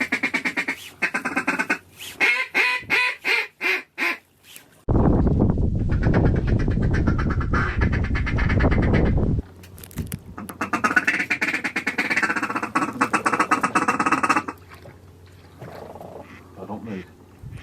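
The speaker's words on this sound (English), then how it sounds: "We got some more geese and ducks on the horizon." Ducks quack in a rapid run of loud calls during a duck hunting trip with geese about, followed by a long burst of rough outdoor noise and more calls mixed with people talking.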